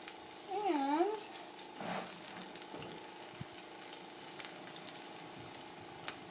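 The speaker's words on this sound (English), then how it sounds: "I'm going to start off with sauteing some onion in a skillet." Onion sautéing in a skillet, a soft, steady sizzle with occasional stirring clicks, and a brief wavering voice-like tone early on.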